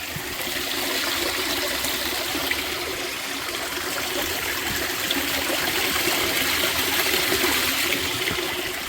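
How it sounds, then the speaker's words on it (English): Water pours steadily into a dam, a loud, continuous rushing roar with a broad hiss and no pauses, heard up close outdoors. "You see how much water is flowing now."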